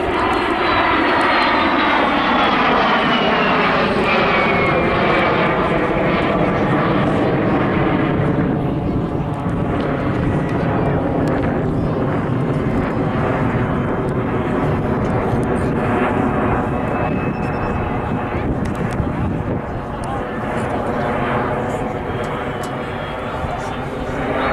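A MiG-15 and a Vampire jet fly a pair display at the 2018 Southport airshow, their engines roaring loudly and continuously overhead with a rising and falling drone, and a commentator talking over the noise.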